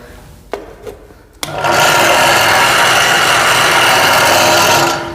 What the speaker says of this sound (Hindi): मोटर स्टार्ट हो रहा है और ये बेल्ट हमारा बेल्ट पुली वर्क कर रहा है